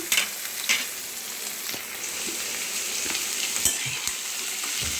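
Millet noodles fry in a pan with a steady soft sizzle, punctuated by scattered clicks and scrapes from stirring, with no voices.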